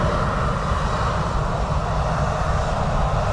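An aircraft landing on runway 29 at Dublin Airport in crosswinds, a loud sustained engine roar with broad rumble that stays steady throughout, heard alone.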